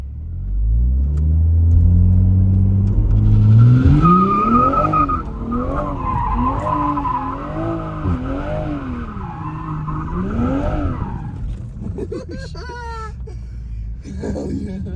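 Toyota Supra engine revving hard in rising and falling pulses while the car spins and skids, tires squealing loudly up close, with a few voices at the end.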